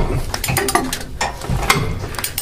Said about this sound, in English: then you can start to work the ratchet